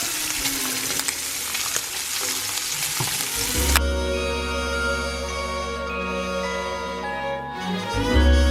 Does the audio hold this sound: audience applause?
no